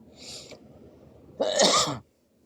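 A person sneezes or coughs twice, a softer burst followed by a louder, sharper one, close and otherwise quiet.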